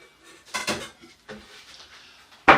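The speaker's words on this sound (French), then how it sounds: "je sors la plus grosse marmite de la maison" A large cooking pot, the biggest in the house, is pulled out of a kitchen cupboard and clatters in a few sharp metallic knocks and bangs, ending in a loud crash near the close.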